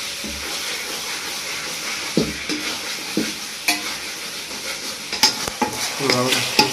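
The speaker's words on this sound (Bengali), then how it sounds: "মাংস রান্না হচ্ছে কষানোর কাজ" Chicken pieces with garam masala and coriander leaves sautéed in a pan, a constant sizzle broken by repeated stirring scrapes and clinks, close up, getting busier toward the end.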